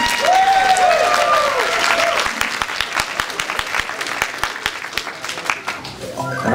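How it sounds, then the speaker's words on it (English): At the Portland Retro Gaming Expo 2018, a convention crowd applauds with some whooping and cheering. The applause thins into scattered individual claps before swelling again briefly at the end. "There you go, look at that, round of applause."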